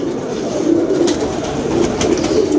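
Pigeons coo close by in a low, continuous murmur that swells and eases steadily, with no voices.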